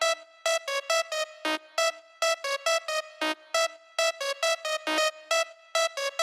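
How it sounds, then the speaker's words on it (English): A buzzy, distorted saw-wave lead plays a fast, choppy pattern of short staccato notes, mostly repeating one pitch with occasional lower dips. "the next layer is just a saw wave with some distortion"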